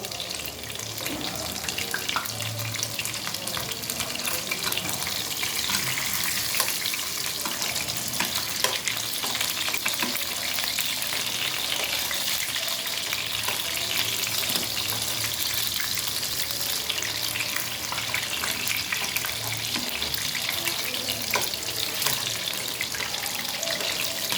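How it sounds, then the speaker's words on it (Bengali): Kathi kebabs fry in oil in a frying pan over a low flame, giving a steady, dense sizzle that runs unbroken throughout, close and fairly loud with no talking. "আমি তেলে ভেজে নিচ্ছি"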